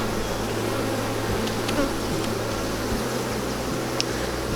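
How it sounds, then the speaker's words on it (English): Buckfast cross Welsh Black honey bees hum in a steady, even drone around an open hive during a June inspection, a continuous close buzz with no voices. "Notice how quiet these bees are."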